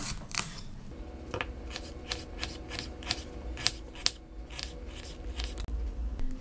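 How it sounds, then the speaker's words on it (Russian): A knife taps and crunches against a cutting board in a steady series of close, crisp slices, cutting an onion into half rings. "Лук нарезаем полукольцами."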